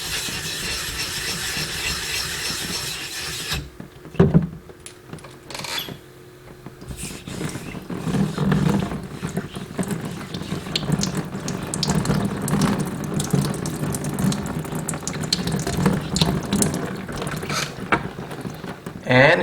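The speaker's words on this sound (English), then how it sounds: "I'm just going to give this a scrub down just to clean up the surface here" Running water from a tap while a sharpening stone is scrubbed clean, steady splashing and gurgling with a brief clatter, then rougher rhythmic scrubbing under the flow.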